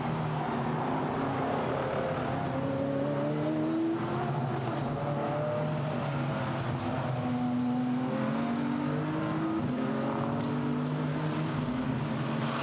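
GT4 race cars lap the Misano circuit, engines droning and rising in pitch as several cars pass and accelerate, layered over a constant roar of track ambience for the whole stretch with no talk.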